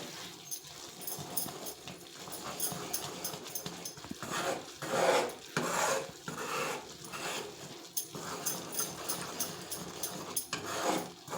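Thick 7 cup burfi mixture being stirred continuously in a pan over low heat, a close rasping scrape of the spoon against the pan in uneven repeated strokes.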